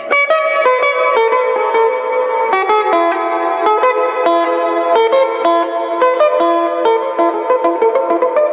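Electric guitar played through an Albion hybrid amp with an echo effect, clean picked notes ringing out with repeating delay trails, loud and close.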